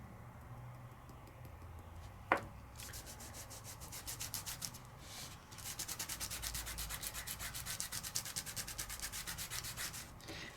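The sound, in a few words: burnishing microfine glitter through a layering stencil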